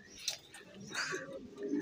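A racing pigeon coos softly a few times, fairly close, with faint background noise and a brief tick.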